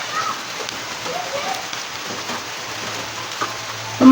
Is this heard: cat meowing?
no